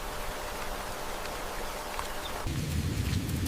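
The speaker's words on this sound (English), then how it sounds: "Rain begins to fall, washing away the dust, and every trace of what once was pain." Steady rain falls in an open savanna setting, a dense even hiss that swells louder and fuller near the end, with no voices.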